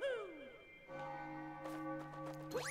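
Bells ring repeatedly in Super Mario Odyssey, with sustained tonal chimes that ring out and overlap under game music and effects, moderately loud throughout.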